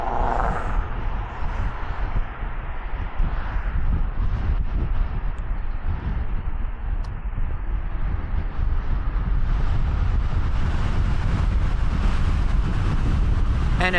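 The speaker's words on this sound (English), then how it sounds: "it definitely feels like I'm going against the wind" Steady, loud wind roar buffets the microphone while riding an Inmotion RS Midnight electric unicycle through streets with traffic, a constant rushing blast that swells stronger toward the end.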